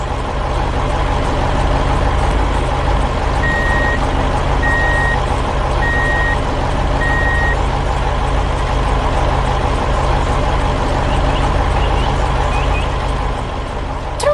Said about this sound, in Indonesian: Truk itu melaju dengan mantap, membawa beban berat kembali ke arah jalan tadi.